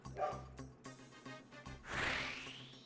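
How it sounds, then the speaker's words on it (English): A real puppy barks faintly in the background in a few short bursts, mixed with Old School RuneScape game audio. "Can you guys hear the puppy?"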